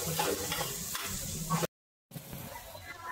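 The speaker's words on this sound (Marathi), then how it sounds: "एकदम प्रॉपरली अशी माझी कांदा परतून घेण्याची पद्धत चालू आहे" Chopped onions sautéing and being stirred in a pan for a masala okra dish, giving a steady close sizzle with scraping stirs, cut off by a brief silent gap before the frying resumes.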